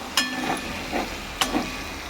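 Spices for a vegetarian paneer curry sizzle steadily in a pan, close and loud, with two sharp scrapes of a spoon stirring through them and no talk.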